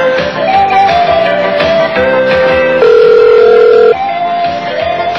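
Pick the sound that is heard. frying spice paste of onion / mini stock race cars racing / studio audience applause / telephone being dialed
telephone being dialed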